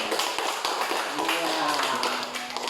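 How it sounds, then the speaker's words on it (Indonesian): Pupils in a classroom clapping for a classmate, a dense burst of hand claps that stays steady for a few seconds, close and loud, with voices mixed in. "coba tepuk tangan dulu untuk Novita"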